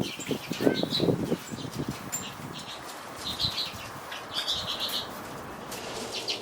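Finches chirp and tweet in a main bird room that houses and breeds many finch species, with bursts of wing flapping near the start and scattered high calls throughout, all at a moderate, steady level.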